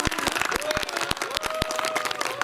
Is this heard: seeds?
no